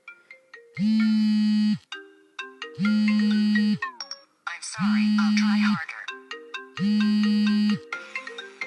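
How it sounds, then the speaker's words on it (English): A custom phone ringtone plays a repeating melodic pattern with sustained low tones between bright synth phrases, loud and near. A short spoken line is part of the tone. "So this is my ringtone."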